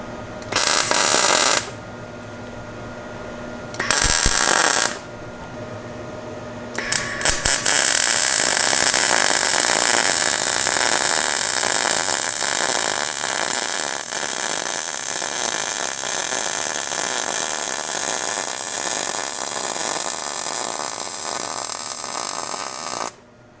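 A budget MIG welder laying a bead on roll cage tubing, a couple of short crackling bursts followed by a long, continuous buzzing hiss up close that runs steadily for about sixteen seconds before cutting off.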